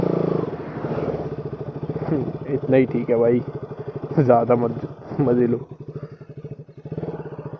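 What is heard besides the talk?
motorcycle engine idling and being parked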